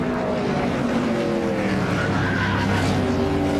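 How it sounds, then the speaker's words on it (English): NASCAR race cars spin through a multiple-car crash, a dense, loud, continuous roar of engines and scrubbing tires with no pause for the whole stretch. "More cars still spinning in this multiple car crash"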